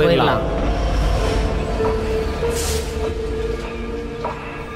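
A train sound effect in a Tamil horror bedtime story, a steady rumbling rail roll with a faint squealing tone, loud and continuous under background sound throughout.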